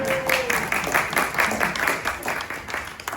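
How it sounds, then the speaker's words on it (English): Audience applause welcoming a guest speaker at a talk on scams and fraud, steady broadband clapping from a crowd filling the room throughout, fairly loud and close, with no speech over it. "You can applaud."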